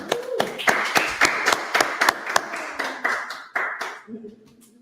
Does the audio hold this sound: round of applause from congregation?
yes